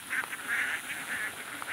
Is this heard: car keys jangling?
no